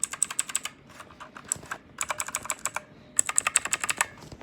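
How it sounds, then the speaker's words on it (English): Loud, crisp clicking keystrokes on a Redragon K552 mechanical keyboard with Cherry MX Blue switches, typed in three quick bursts of rapid, evenly spaced clicks with short pauses between, close up and with no talking. "The arrow keys are probably the clickiest"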